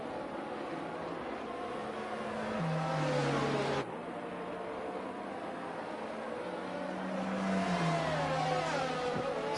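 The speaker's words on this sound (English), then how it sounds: "hopefully the racing will be back underway on lap 17 with FaZe Pantera" Racing cars accelerating at a safety car restart in an online league race on the Saudi Arabia circuit in a racing video game, with a steady engine drone rising in pitch twice as gears shift, continuous and close.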